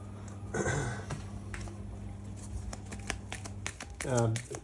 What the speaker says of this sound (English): So let's just shuffle these decks up.